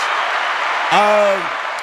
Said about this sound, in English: Round of applause to all our listeners, viewers.